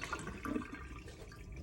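Steady running cold water from a ProBoil boiling-water tap, a continuous broadband splashing hiss that holds fairly even throughout.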